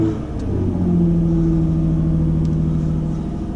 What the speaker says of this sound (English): now when you start the car